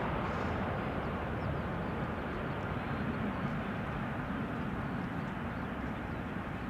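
A plane nicknamed Kermit at Schiphol's Polderbaan runway on a warm day: a steady, loud, broadband jet roar that holds evenly for several seconds without letting up.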